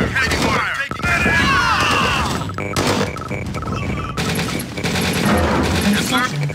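Rapid bursts of gunfire and explosions rattle through a real-time strategy video game battle, dense and loud, mixed with unit voice responses and game sound effects.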